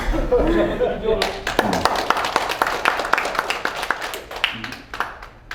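Audience at a lecture by a former Korean unification minister breaks into applause after a short stretch of talk, dense clapping that builds and carries steadily to the end of the clip.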